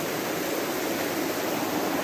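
Creek water flowing steadily in a continuous broad rushing wash, close and even, with no voices over it.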